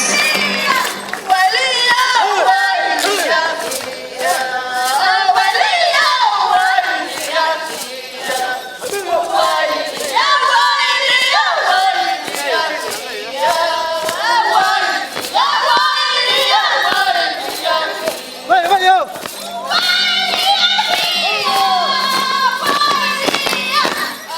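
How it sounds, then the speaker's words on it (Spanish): A large crowd at an anniversary festival of Andean dances and huaylias cheers and applauds a dance delegation with loud, continuous clapping mixed with shouts, whistles and excited voices that rise and fall in waves throughout. "para ellos el aplauso fuerte"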